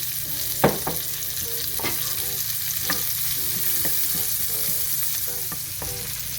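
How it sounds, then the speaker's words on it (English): Shallots sautéing in a pan of oil and pork fat give a steady close sizzle, broken by several sharp clicks and scrapes of stirring. "you want to grab your shallots and you want to cook them in all this oil and fat for about 3 minutes. So they get nice and sauteed."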